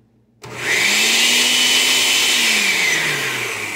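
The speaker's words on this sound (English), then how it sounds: "This blender old as hell." An old blender starts up abruptly and runs with a loud, steady whine, its motor pitch rising then sagging slightly as it churns a berry banana smoothie.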